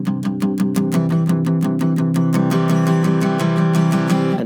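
Palm-muted acoustic guitar playing a song at full speed, a steady driving strum of damped strings with rhythmic chugging attacks, close and loud, opening up slightly brighter toward the end, no talking.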